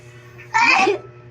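A single short sneeze-like burst, close and fairly loud, lasting about half a second over quiet background hum outdoors at a picnic.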